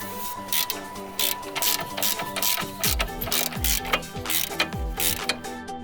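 A ratchet clicks in fast repeated bursts while loosening rusty lower nuts on a VW Golf, Passat or Jetta front wheel hub, metallic pawl ticks close and loud with brief pauses between runs.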